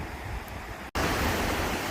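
Ocean surf rolling in at sunset beside a pier, a steady broadband wash of waves that briefly drops out near the one-second mark, then returns fuller and louder, with no voices.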